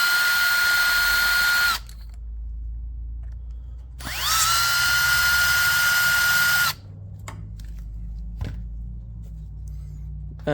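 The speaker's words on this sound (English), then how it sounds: "I just take my screw gun, and then the bolt and the bracket will just pull the injector up and out." A screw gun drives a bolt and bracket to pull an injector from a Ford 6.0 Power Stroke diesel, two loud sustained whirring bursts of several seconds each, separated by quiet pauses with faint clicks and handling noise.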